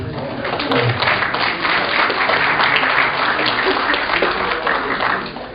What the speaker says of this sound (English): claps for him, please